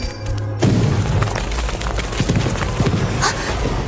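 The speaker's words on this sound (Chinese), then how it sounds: "啊，是枪声！" A sudden booming gunshot in an apocalyptic monster drama series, one sharp blast followed by scattered cracks and rumbling echoes under the tense scene's sound, with no speech during it.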